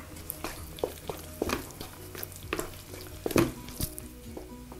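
Greek pasticcio meat sauce being stirred with chopped parsley in a pan, with a low frying sizzle under irregular scraping and clinking of the spoon against the pan.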